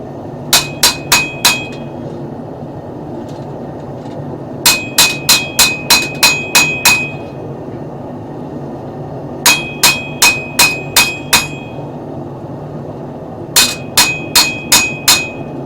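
Quick bursts of light small-hammer blows ringing on a steel seax knife blade while forging bevels, four to seven strikes per burst, repeated four times with short pauses, over a low steady hum.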